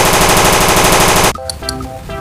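Toy AK-101 gun firing a loud rapid burst of electronic machine-gun sound effect, cut off sharply and followed by brief beeping tones.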